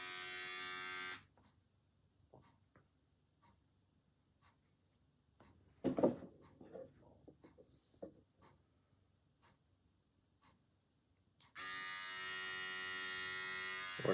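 Manscaped electric shaver with two foil blades: a steady high buzzing motor hum switches on at the start, cuts out for a stretch of quiet handling clicks and rustles, then runs again at the end, close and even.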